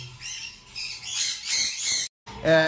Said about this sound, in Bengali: এখানে আপনারা দেখতে পাচ্ছেন এক জোড়া অনেক সুন্দর মাশাআল্লাহ এক জোড়া সান কোনর রয়েছে